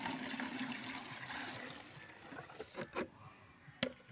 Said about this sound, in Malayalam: 2 ലിറ്റർ ഗോമൂത്രത്തെ ഞാനൊരു ഇതുപോലെ ഒരു അടപ്പുള്ള പാത്രത്തിലേക്ക് ഒഴിക്കുകയാണ്.